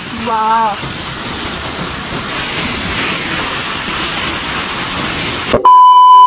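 The Amile waterfall in Arghakhanchi gives a steady, loud rushing roar of falling water, opening under a short burst of melodic chimes and cut off near the end by a sharp electronic tone.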